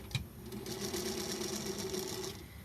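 A yellow Singer Featherweight sewing machine runs fast while piecing half-square triangles, a quick, even whirring hum with rhythmic needle clatter held steadily, fairly quiet and close.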